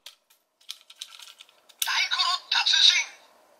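A Kamen Rider Ex-Aid Taiko no Tatsujin Gashat gashapon toy plays its electronic sound effect, a short burst of bright jingle tones after a few faint clicks, close and alone.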